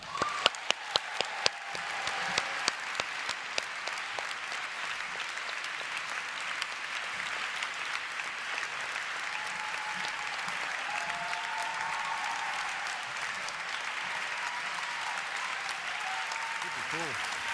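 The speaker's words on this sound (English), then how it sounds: "Let that applause sink in, you know?" Audience applause at an evening talk on the LA Times stage, dense sustained clapping from a large crowd that runs on steadily with a few sharper claps near the start.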